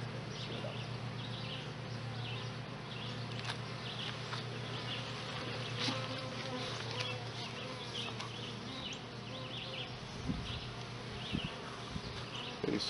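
Honeybees drone around an open hive being worked, a steady dense buzz of many insects close by with occasional louder passes near the microphone and a few faint knocks.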